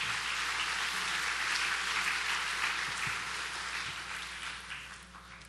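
A church congregation claps together in sustained, dense applause that holds steady, then gradually fades toward the end, with no voices over it.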